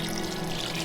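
Water splashes in a steady, close pour as it is added to a container of neglected sourdough starter along with flour, a continuous rushing gush with no voices.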